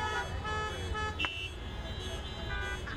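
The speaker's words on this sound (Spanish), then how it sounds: "aunque hubo risas en cada auto, se demostraban con el claxon" Car horns honking at a drive-in comedy show with 342 cars, several overlapping tones sounding over a busy crowd-like wash, with a brief high beep partway through and voices faintly mixed in.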